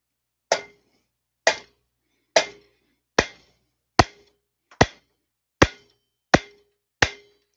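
Eight evenly spaced sharp taps, one roughly each second, land on the stuck cylinder of a Homelite Super XL-925 chainsaw to break the gasket loose, each a crisp close knock with a short ring, heard alone.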